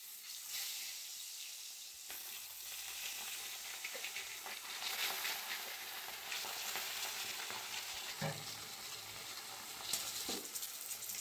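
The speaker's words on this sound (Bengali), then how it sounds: "তেল গরম হয়ে গেছে, মাছগুলো দিয়ে সব মাছগুলো ভেজে নেব।" Fish fry in hot mustard oil in a wok, giving a continuous soft sizzle with bubbling and occasional louder spits and stirring scrapes, steady and fairly quiet throughout.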